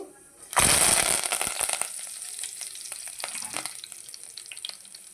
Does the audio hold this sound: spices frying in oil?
yes